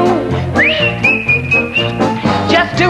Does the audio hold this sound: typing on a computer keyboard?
no